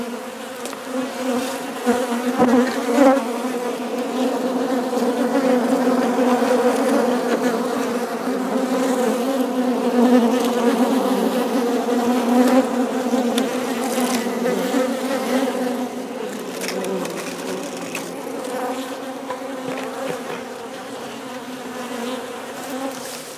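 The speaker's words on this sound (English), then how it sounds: "check out the bees" Loud, sustained buzzing of many bees nesting inside a dresser close by, a rich droning hum that swells and eases slightly but never stops.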